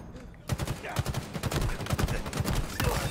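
Rapid automatic gunfire in Halo Infinite during a capture-the-flag match, a dense rattle of bursts and individual shots lasting almost the whole moment, loud and close, with faint game sounds underneath.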